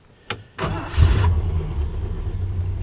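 A couple of clicks, then a 1953 Chrysler Windsor Newport's engine cranks and catches, roaring up loudly before settling into a steady idle.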